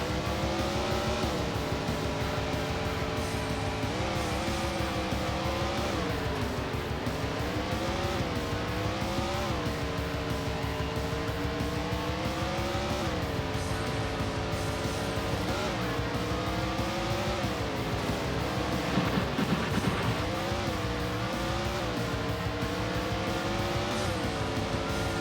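Race cars roar around a street circuit in the Andretti Racing video game, a steady close engine drone rising and falling in pitch through gear changes, with occasional tire squeal and no talk.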